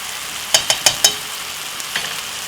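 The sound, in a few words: stirring jerk beef mince in a pan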